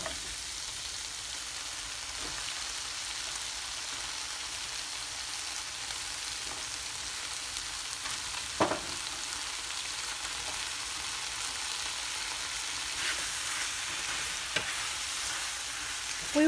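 Squash fries in a pan for pinakbet, Filipino mixed vegetables in shrimp paste, with a continuous soft sizzle and occasional scraping stirs and light taps, near and moderately quiet.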